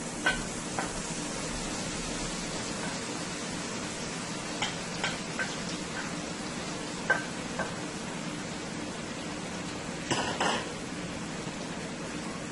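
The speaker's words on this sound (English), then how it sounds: "Let's go ahead and start with our mixed masala here into the oil." Mixed masala fries in hot oil with a soft, steady sizzle, joined by occasional light ticks and clinks of stirring, with no talking.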